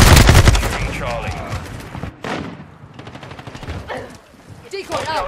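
Rapid bursts of automatic fire from a Sakin MG38 light machine gun during a Domination match on the Shipment map in Modern Warfare 2: dense, loud, continuous volleys with brief gaps, mixed with other battle noise.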